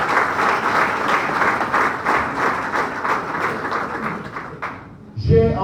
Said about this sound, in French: Je pense à Fabien Méré, que je vous demande d'applaudir très fort.